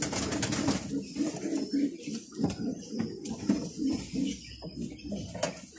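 Pigeons coo close by in a repeated, rhythmic pattern of soft, throaty phrases, with light background clatter between the calls.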